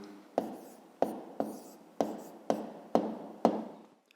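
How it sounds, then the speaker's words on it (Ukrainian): A ballpoint pen writes an answer in a fifth-grade maths exercise book, giving seven short, regular scratching strokes close up with brief gaps, then stopping. "Тепер записуємо відповідь."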